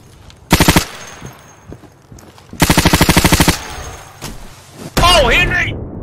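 Automatic gunfire in the Insurgency video game comes in loud close bursts of rapid rattling shots, with a short gap between bursts, thuds in between, and players talking over the action.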